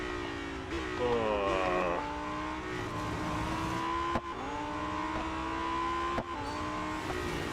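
Lamborghini Huracan STO engine in the Real Racing 3 racing game, holding a steady loud roar with rising revs through gear changes and sharp shift breaks, accelerating round a gentle bend.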